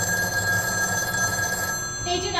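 A telephone rings steadily on an old line while an operator places a call to a Murray Hill number, the bell tone running unbroken behind a voice before a new burst of ringing starts near the end.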